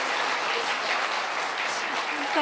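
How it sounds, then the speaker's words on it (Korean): An audience in a Korean church special gathering claps warmly after a former announcer greets them, a dense, continuous round of applause lasting a few seconds at steady loudness. "박수가 다르잖아요"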